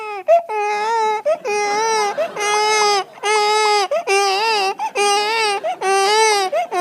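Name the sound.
comedian imitating a crying baby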